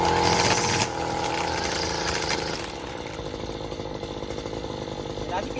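STIHL grass trimmer with its small two-stroke engine running and the string head spinning, a loud buzzing whine that drops slightly in intensity after the first second and continues steadily to the end.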